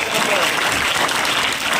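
Children at a school quiz competition clap in a dense, continuous burst of applause that holds steady and fairly loud, with no break.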